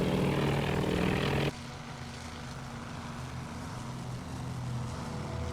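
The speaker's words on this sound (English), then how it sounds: "Our scout planes are now leaving the safety of our radar screen." Propeller scout planes in the naval strategy game Task Force Admiral drone with a steady engine hum; a louder, brighter burst cuts off abruptly early on, leaving a lower continuous propeller drone that swells slightly toward the end.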